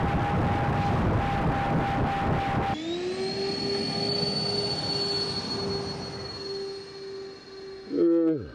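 A high-power rocket-propelled model plane in flight after launching from a rail, a loud roaring rush that drops to a steady tonal whine, with a brief swooping pitch change near the end.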